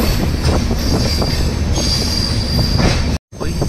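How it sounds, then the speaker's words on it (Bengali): Dhauli SF Express pulling out of Kharagpur station, with steady rolling rumble of rail cars, wheel squeal and faint clatter, loud and close throughout, broken by a brief dropout near the end. "আমার ট্রেন ছেড়ে বেরোচ্ছে খড়গপুর স্টেশন"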